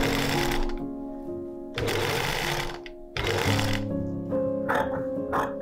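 A sewing machine stitches a tulle strip onto a dress neckline in three loud, close bursts of steady motor whir, separated by brief stops.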